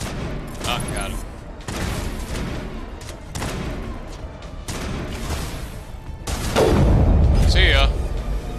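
Gunfire in the Mass Effect video game: repeated rifle shots and heavy booming bursts, loud and close, with a big blast near the end while someone talks over the action.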